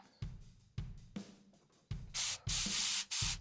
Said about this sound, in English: you hear a lot of air there in that one.